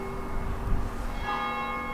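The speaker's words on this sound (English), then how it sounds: "The bells." Bells ring at Coity Castle, a medieval Welsh stronghold, producing steady, sustained metallic tones that hang in the air at moderate volume, with no voices present.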